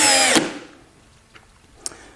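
A DCA 20-volt cordless drill drives a 1.5-inch drywall screw with no pre-drilling, a loud, short whine that stops abruptly, followed by a couple of faint clicks in quiet.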